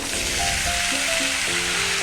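Potatoes and pointed gourd sizzle in a pan with cumin, a loud, dense, steady hiss of frying that fills the short span, with a faint tonal hum beneath and no talking.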